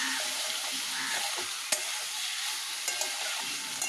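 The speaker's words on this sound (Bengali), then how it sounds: "মাছগুলো দিয়ে নাড়াচাড়া করে লাস্টে একটু ধনে পাতা দিয়ে দেবো।" Fish frying in a pan of spiced masala sizzles loudly and steadily, broken by a few scraping knocks as a spoon stirs it, close up with no talking.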